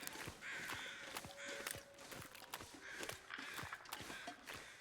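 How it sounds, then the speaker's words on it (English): Crows caw repeatedly in the wilderness survival game The Long Dark, harsh calls recurring through the clip over an ambient outdoor bed with faint thuds like footsteps. "Oh, crows are up there."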